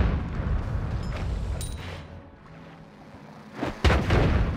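Bombs explode in the game Noita with booming, crunching blasts, one rumble early and two sharp, loud explosions near the end, separated by a quieter stretch.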